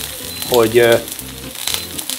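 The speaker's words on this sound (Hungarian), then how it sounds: "Ide kell egy kis zsiradék, a sajtnál érdemes használni szőlőmagolajat, és merd bele a sajt így." Grill cheese frying in grapeseed oil in a pan gives a steady close sizzle, with a short clatter and scrape as the cheese goes in.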